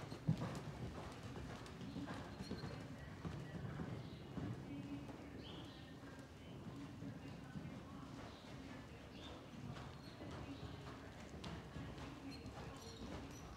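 Hooves of a 15.2-hand Morgan mare cantering in an arena, a faint steady rhythmic clip-clop with soft footfalls on the ground, carrying on throughout, under occasional distant speech.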